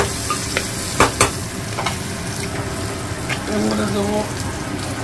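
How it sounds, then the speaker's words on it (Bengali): Onions sautéing in a pan for mutton curry, a continuous close sizzle broken by a few sharp spatula knocks and scraping strokes. "পেঁয়াজটা ভালো করে কষে নিয়ে এর মধ্যে দেবো"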